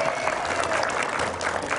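Studio audience applause at an RTV television show, a dense steady patter of clapping throughout the short stretch with no voices over it.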